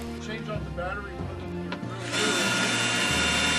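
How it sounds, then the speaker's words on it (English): A cordless drill whirs in short bursts, then a longer, louder high-pitched run as a screw is driven through plywood into a 2x4. "A battery-powered drill is used to drive the screws through the plywood and into the 2x4s."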